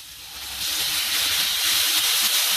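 Kettle water poured into a hot pan of spices hisses and sizzles loudly as steam rises, a steady rushing hiss that swells and holds without any talking.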